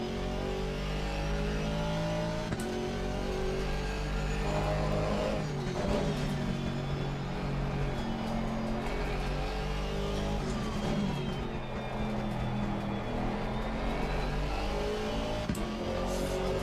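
Race car engine in Assetto Corsa Competizione, continuous and loud, with shifting pitch and revs rising and falling through repeated gear changes and downshifts, and no voices over it.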